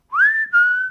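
A person whistles an imitation of a phone ringer: a clear, loud two-part whistle that glides upward and then holds a steady tone, with a brief break between the two notes.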